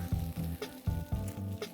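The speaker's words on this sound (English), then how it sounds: "You hear that sizzling?" Food sizzling in a hot pan in a kitchen, a steady frying hiss with pulsing low thumps and brief bursts as ingredients shift, fairly quiet and continuous with no talking.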